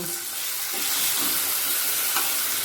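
Tomato frying in oil with black cumin, for a pomfret mustard curry: a loud, continuous hiss and sizzle up close, with a few faint clinks underneath.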